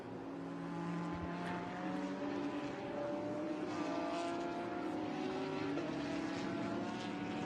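A GT-X race car accelerates at Lime Rock during a 2018 Pirelli World Challenge round, its engine note climbing in rising sweeps through the gears, a steady, moderately distant roar with no talk.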